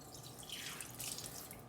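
Water runs and splashes softly for a moment, a faint rinsing sound with no voices.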